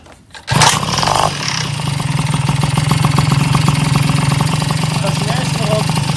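A Tomos moped engine with an aftermarket exhaust starts with a short burst, then settles into a steady, close, rattling idle that continues throughout.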